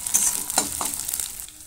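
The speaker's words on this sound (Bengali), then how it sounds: "আদা রসুন বাটাটাকে ভালো করে ভেজে নিতে হবে, কাঁচা গন্ধ চলে যাওয়া পর্যন্ত।" Ginger-garlic paste frying and being stirred in hot oil for a Kashmiri chicken dish, a steady close sizzle with scraping stir strokes, alone without talk.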